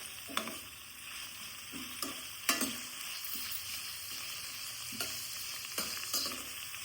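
Onion pieces frying gently in oil, giving a steady soft sizzle throughout with a few sharp stirring clicks and scrapes scattered across it, no voices.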